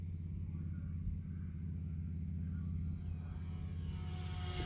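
An XK A430 Edge 3D RC plane in flight, its small electric motor giving a steady propeller drone with low rumble, continuous and fairly distant, slowly shifting in pitch near the end, with no talking.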